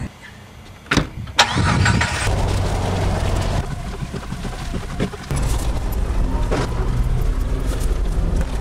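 A Jeep in strong wind near Canyonlands, heard from close by as a few thumps and a cranking start, then a loud, steady engine roar, with a brief dip and surge as it pulls away.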